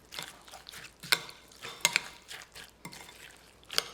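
Seasoned salad of salt and pepper being tossed by hand in a bowl, soft scattered rustles and a few sharp clinks, quiet and close with no talk.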